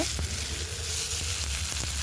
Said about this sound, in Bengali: খানিকক্ষণ আদাটা ভাজা হয়ে গেছে, এবার জল দেব।